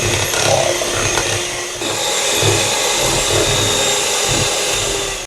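An electric mixer creams butter for a moist vanilla cake, a loud, steady motor whir that runs unbroken the whole time with a faint rhythmic churn underneath.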